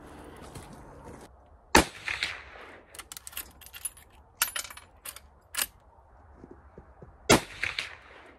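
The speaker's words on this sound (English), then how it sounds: "we're gonna shoot three more shots with it and see if we can kind of see what those groups are doing" Sharp rifle reports from a Marlin 336 30-30 lever-action trapper rifle with skinner sights crack out three times with pauses between, each followed by metallic clacks of the lever being worked, heard outdoors at moderate distance.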